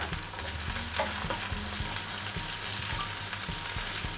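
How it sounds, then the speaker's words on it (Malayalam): Onions and green chillies fry for restaurant-style chilli chicken, a dense, loud, continuous sizzle with a low rhythmic clatter of the pan or stirring underneath. "നമ്മൾ ഇതിലോട്ട് സവാള ആഡ് ചെയ്ത് കൊടുക്കുക"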